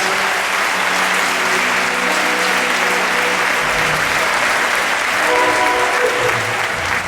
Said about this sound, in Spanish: Vamos a pedir de verdade un fortísimo aplauso a Joselito, por favor, por ayudarnos.